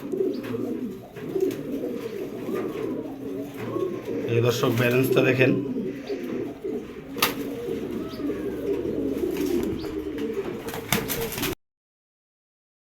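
A privately raced pigeon coos in soft, low rolling bursts while held close in a man's hands, with his nearby talk running over it and a few faint chirps from other birds.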